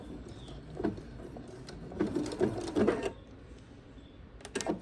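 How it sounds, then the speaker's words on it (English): A sewing machine back-stitches to lock its stitches while binding, with short bursts of mechanical whirring and clicking, quiet and close with brief pauses between runs. "my machine, I just hit a button and I have a fix. And so it will secure my stitches for me"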